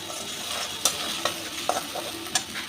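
Ground spice paste of ginger, black pepper, garam masala, cardamom, cinnamon, clove, cumin, coriander and fennel fries in ghee with a steady close sizzle, broken by several sharp spoon scrapes and clicks against the pan.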